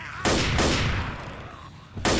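A few loud, booming gunshots ring out in the video game Left 4 Dead, one at the start, another soon after, and a third near the end, each with a long echoing tail.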